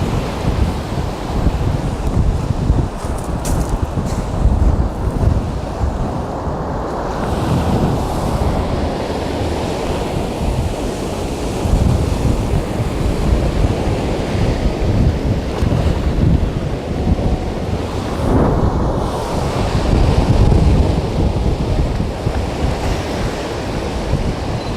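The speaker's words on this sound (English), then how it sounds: "the waves are breaking nicely around this rock now" Sea waves surging and breaking around a rock on the coast at Porth Cwyfan, a steady loud roar of surf with wind buffeting the microphone and swells building and falling throughout.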